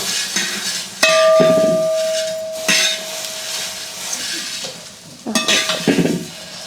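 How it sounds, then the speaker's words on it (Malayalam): Vermicelli frying in a little oil in a pan, crackling sizzle broken by sharp metallic scrapes and clanks of stirring, one ringing clang early on, no talk. "സേമിയ വറുക്കാനായിട്ട് പോവുകയാണ്. കുറച്ച് എണ്ണ ഒഴിച്ചിട്ടുണ്ട്."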